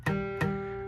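Two quick guitar strums with a buzzy, clashing ring from stray strings, the second strum letting the chord sustain and fade.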